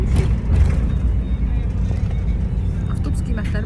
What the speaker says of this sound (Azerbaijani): Avtobusa minmişik